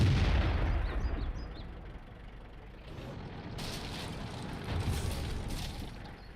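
Deep booming artillery fire in the World of Tanks video game, a heavy blast at the start rolling off into a low rumble, followed by steady engine drone and further muffled booms.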